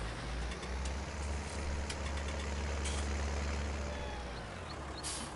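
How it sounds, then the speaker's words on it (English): A powerful small tractor engine running in Farming Simulator 19, a steady low rumbling drone throughout with faint clicks and hisses on top. "That's quite a powerful little tractor as well, that one."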